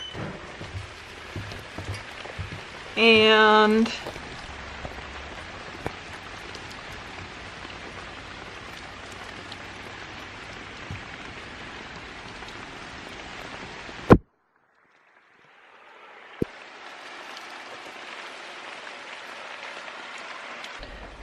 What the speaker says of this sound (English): today we have, right on time, the first day of rain.